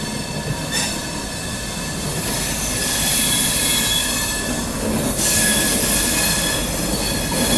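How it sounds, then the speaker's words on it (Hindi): An Alco WDM 3D diesel locomotive from Malda shed rolls past on an Indian railway, heard as a steady rumble of rail traffic with a sustained high wheel squeal and faint rhythmic clatter, and no voices. "मालदा शेड का एल्को लोकोमोटिव WDM 3D।"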